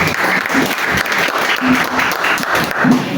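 A church congregation claps together in a dense, steady wave of applause, loud and close, lasting throughout with a faint voice briefly audible beneath.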